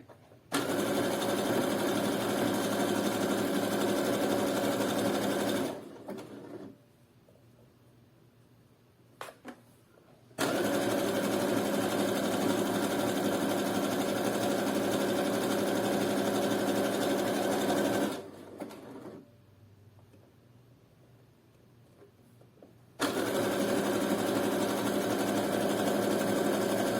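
A sewing machine stitches loops onto a string bikini, running loud and steady in two long bursts separated by a quiet pause with faint clicks, then starting a third run.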